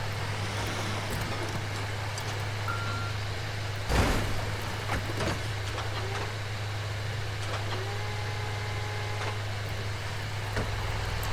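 A crane truck backing up in GTA V, its steady reversing beeps and engine hum running continuously, with a brief louder knock or clunk partway through and no talking.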